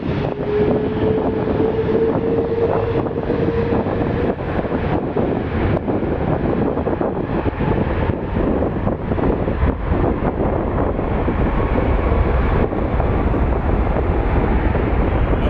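A loud, steady Airbus A330 jet engine roar at Toronto Pearson airport, with a deep broadband rumble and a brief whining tone early on, continuing without pause and with no talking.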